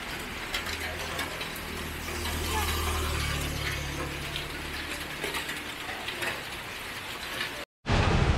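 Steady rain falls at the end of a bridge between Tanjung and Kalua in Tabalong, a dense even hiss with some rumble, ending in a brief dropout.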